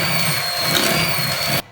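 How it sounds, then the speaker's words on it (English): An electric mixer whirs on low speed through sugar, eggs and vanilla extract, a steady close motor hum that cuts off abruptly near the end. "it says now to mix on a low speed until combined"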